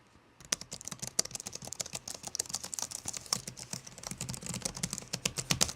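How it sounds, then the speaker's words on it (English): Rapid, steady typing on the Cherry MX mechanical keyboard of an Alienware M18 laptop, close and clear, a dense run of crisp keystrokes with no talking. "This keyboard is a Cherry MX mechanical keyboard."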